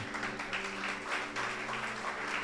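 A church congregation applauds during a worship service, a steady, continuous patter of many hands clapping at moderate volume, with a low sustained hum or organ-like tone running underneath.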